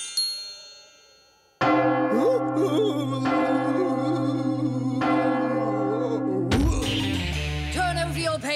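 A backup school bell rings in a cartoon classroom, a loud, sustained metallic clanging that rings on for several seconds with steady resonant overtones, then gives way to a jumble of other noises.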